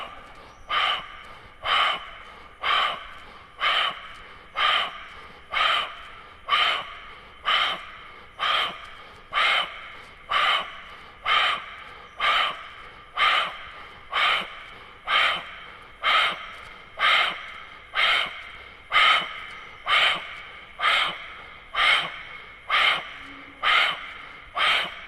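Rhythmic, forceful breaths out through the nose repeat about every second during a yoga class exercise, close and steady across a long series with no talking.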